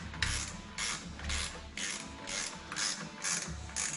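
Ratchet tightening the fan bolts on a Chevrolet Duramax engine, a close, quick series of clicking pawl strokes in regular bursts, fairly quiet with no talk.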